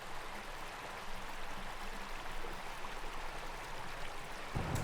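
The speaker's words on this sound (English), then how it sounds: "Here the first trickles of seepage gather into a creek." Creek water trickling at Niasi Open Space where seepage gathers into a small stream, a soft continuous broadband wash with no voices and a slight bump near the end.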